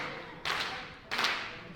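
A Barrie Wrestling crowd claps and cheers in three short, loud bursts with brief lulls between them.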